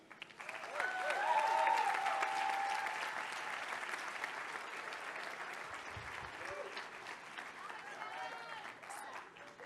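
A seated audience applauds to welcome a speaker at a Harvard event: sustained, dense clapping that swells early, then holds steady and slowly thins, heard from within the room, with a few voices mixed in.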